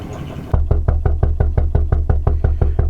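A vintage Witte stationary engine chugs slowly, its exhaust giving a steady, loud rhythmic knock about four beats per second, close by, after a brief burst of broadband noise at the start.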